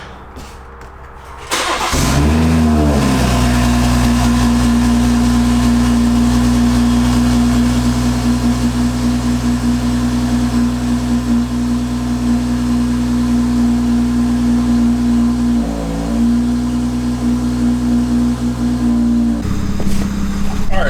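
A car engine cold-starts with a brief cranking whir, catches and settles into a loud, steady idle that holds for many seconds, with a short dip in the middle and a slight change near the end; the car has a check engine light on.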